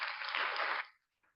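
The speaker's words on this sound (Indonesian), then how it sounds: "Tepuk tangan semuanya" An audience at a faith talk breaks into a dense, close burst of applause for about a second, then it quickly thins out and fades to near silence with one faint trailing clap.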